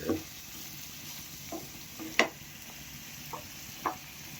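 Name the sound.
stir-frying bamboo shoots in a pan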